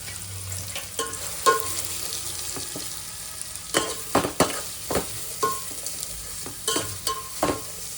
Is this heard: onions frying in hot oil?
yes